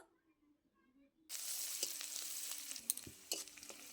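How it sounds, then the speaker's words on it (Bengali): Whole cumin and chopped onion drop into hot white oil in a wok. After a moment of near silence, a loud, close sizzle starts suddenly and keeps crackling steadily. "আবারও কড়াইয়ের মধ্যে সাদা তেল গোটা জিরে পরিমাণ মতো পেঁয়াজ কুচি পরিমাণ মতো"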